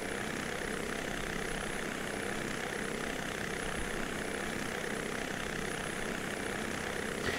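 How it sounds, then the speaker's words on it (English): A helicopter engine in a flight simulator game drones in a steady, unbroken whine and rumble, even in level throughout and unaccompanied by speech. "And just trying to get me helicopter to try to get on down here."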